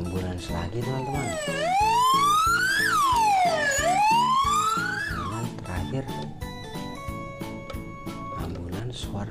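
Toy ambulance siren wailing loudly in rising and falling sweeps, then shifting to a steady electronic tone pattern with rhythmic beeps, close up throughout with a faint voice underneath.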